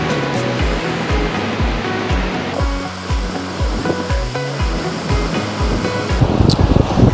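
Waves break and wash steadily onto Long Set Beach on Koh Rong, a loud, continuous surf roar with rhythmic swells and no speech.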